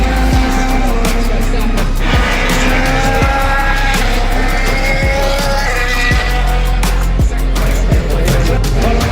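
Formula 1 race cars at the Spa Grand Prix pass in a continuous loud roar of high-revving engines heard from trackside, with repeated whooshing fly-bys and a constant crowd-and-engine wash.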